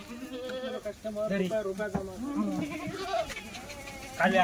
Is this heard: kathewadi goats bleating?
yes